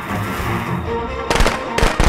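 Firecracker blasts in the video game Friday the 13th: two sharp bursts of crackling pops near the end, loud and close over a dense, busy game-sound background.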